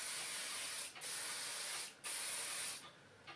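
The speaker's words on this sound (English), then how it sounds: "And a final blast of hairspray." Bursts of mega-hold hairspray from an aerosol can, sprayed onto a vintage-style updo: three close, steady hissing blasts with brief gaps between, the last one fading out, and no talking.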